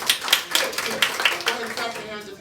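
An improv show audience clapping hands in a short, scattered burst of claps, fairly close and moderately loud.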